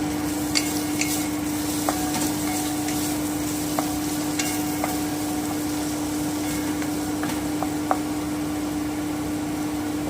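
Squash and potatoes frying with turmeric and salt give a continuous sizzling hiss over a constant hum, with occasional faint light clicks of stirring and no voices.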